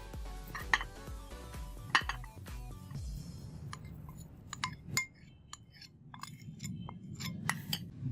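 Potato being mixed into cornflour in a bowl: sharp clinks and clatters of a spoon against the bowl, then quieter scraping and tapping, close and intermittent.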